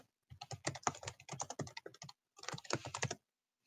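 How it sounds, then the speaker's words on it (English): Rapid typing on a computer keyboard, close and clear, in quick bursts of keystrokes with a short pause before a final flurry. "I hear Nils typing too, so that's a good sign"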